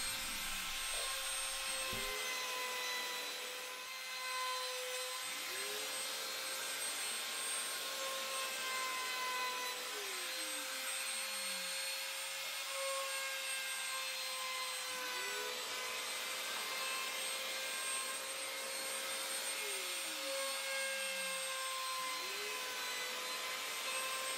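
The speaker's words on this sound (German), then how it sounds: "Vor der weiteren Bearbeitung fasere ich jetzt alle Kanten an." Power tool running continuously while chamfering every edge of a wooden tealight holder, a steady high whine that dips in pitch each time the cutter bites into the wood, close and loud throughout.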